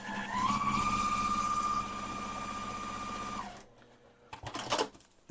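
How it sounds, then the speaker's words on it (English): Sewing machine stitching along an inside line, a steady loud mechanical whir for about three and a half seconds, then stopping, followed by brief rustling and handling of fabric. "now you're going to stitch on this inside line here because there's 2 lines"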